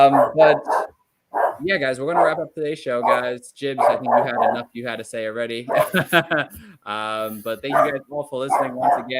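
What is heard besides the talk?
dog barking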